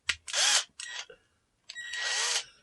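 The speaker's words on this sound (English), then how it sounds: "Right, so we'll get our drill, open the chuck up on it a bit." A small handheld power drill runs in three short bursts, whirring up to speed and stopping with quiet gaps between, close and alone.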